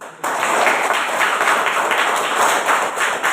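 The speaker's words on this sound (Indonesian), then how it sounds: "Tepuk tangan dulu." A mathematics classroom bursts into applause, many students clapping in a dense, even wash that starts abruptly and holds steady at full loudness, with a faint tonal hum running underneath.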